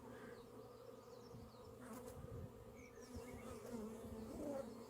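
Bees buzz at a beehive entrance, a steady close hum of many insects with individual buzzes passing near the microphone, continuous and without talking.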